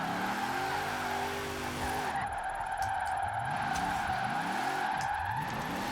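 Tires squealing as a car slides sideways while drifting in Forza Horizon 4, a continuous loud screech over a revving engine whose pitch swoops up and down with throttle changes.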